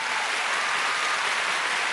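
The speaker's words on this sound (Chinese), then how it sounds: "我们是不是要再给我们现场所有的幕后工作人员一个最大的掌声" An audience at a televised awards ceremony gives sustained applause for the behind-the-scenes crew, a dense, even wash of clapping hands throughout, with no voices over it.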